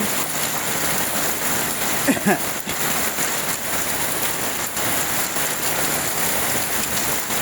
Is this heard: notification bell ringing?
no